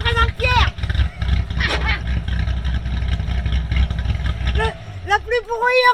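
Tuned Corvette C6 Z06 engine roaring close by, a deep sustained rumble that swells and fades in surges, with people shouting and talking over it.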